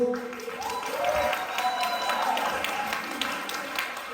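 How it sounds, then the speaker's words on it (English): An audience applauds after a kids' dance performance at an Indian family cultural event, a steady wash of clapping with some cheering and crowd voices, sustained at an even level. "Give them a big round of applause."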